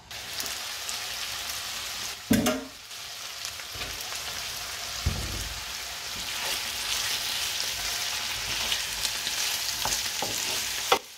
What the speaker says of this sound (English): Let's stir the carrots and onions before adding the mushrooms.